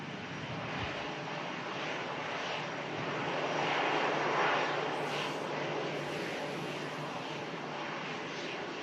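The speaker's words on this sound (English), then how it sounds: "Another EasyJet following that aircraft in. A320neo from Belfast." An easyJet Airbus A320neo in from Belfast lands at Manchester Airport during Storm Lilian, its engines a loud, steady roar that swells and fades amid gusty wind.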